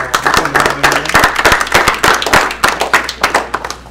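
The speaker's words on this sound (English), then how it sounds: "round of applause for them." A small group applauds close by at a university student senate meeting, with dense, uneven hand claps continuing steadily for several seconds and a faint murmur of voices underneath.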